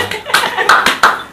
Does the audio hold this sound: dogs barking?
no